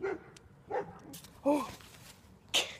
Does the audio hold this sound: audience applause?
no